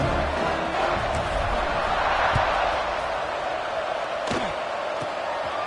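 A football stadium crowd roars steadily before kickoff, a dense, continuous wall of cheering and murmur with a few sharp knocks and thuds rising out of it.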